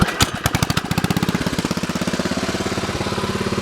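A Kohler engine on a log splitter cranks and catches, then settles into a fast, steady chugging run, close and loud, with no talking over it.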